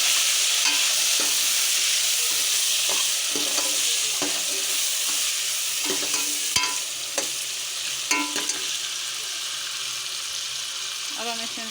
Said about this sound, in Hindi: अब हम इसमें डालेंगे टमाटर।